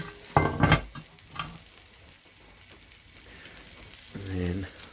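Sprouts fry in a skillet beside a Dutch oven of lamb, giving a soft, steady sizzle with a few stirring scrapes; brief voices cut in near the start and again near the end.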